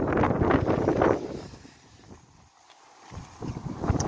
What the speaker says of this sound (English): So it's just this wind, absolute nightmare.